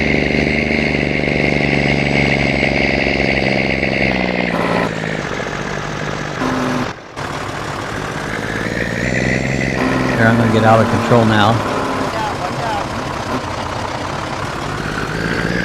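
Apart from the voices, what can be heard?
truck engine idling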